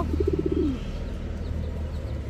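A Giribaj pigeon gives a short rolling coo up close, then a low steady hum and faint background noise continue without voices.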